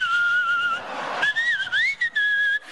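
A man whistles to mimic a cold draught slipping in through a door during a stand-up routine. The clear, piercing whistle holds steady, then warbles and swoops up and down in short bursts, and no one speaks over it.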